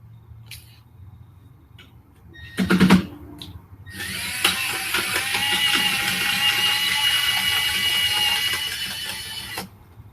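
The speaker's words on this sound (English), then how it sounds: "I gotta switch to the drill." A power drill whirs steadily for several seconds after a few short clicks and knocks, then stops abruptly.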